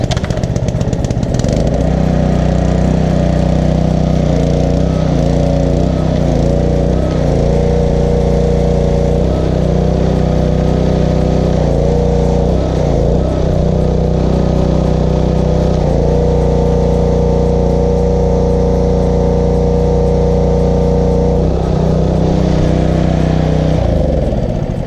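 Pressure washer engine running a foam cannon after an O-ring repair, a loud, steady motor drone with slight wavering that continues without a break for the whole stretch, close by and with no talking.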